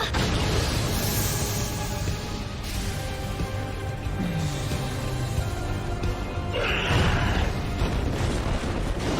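Explosions in the anime Attack on Titan season 4 episode 7, in a dense, loud wall of booming rumble and blasts that runs the whole way through, with a brighter burst near the end.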